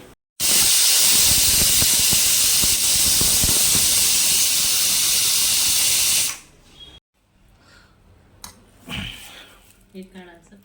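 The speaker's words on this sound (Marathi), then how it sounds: "कुकर शिट्या होतील" A pressure cooker in a hotel kitchen lets off a loud, steady, close steam hiss for about six seconds, then cuts off, leaving faint room noise and brief voices.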